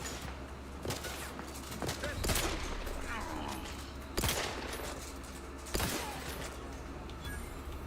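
Bursts of gunfire in the video game The Outer Worlds 2 as a turret is blown out, with several sharp loud shots standing out over a busy rumbling background of combat.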